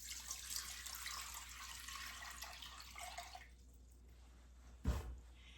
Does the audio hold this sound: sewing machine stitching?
no